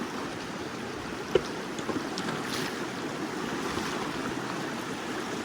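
River water rushes steadily around rocks as someone wades through the Zion Narrows, a continuous close broadband wash with a faint click or step partway through.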